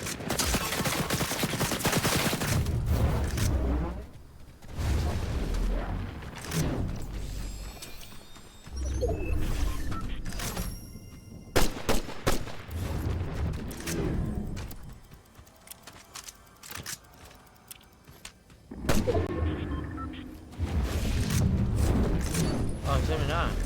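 Video game gunfire in repeated rapid bursts that come and go with brief pauses, under a man's speech at times.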